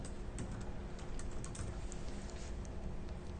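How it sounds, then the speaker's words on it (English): Typing on a computer keyboard: a quiet, steady run of light key clicks over faint background hiss, with no voices. "Maybe I'll type these things."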